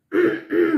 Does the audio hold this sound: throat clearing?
yes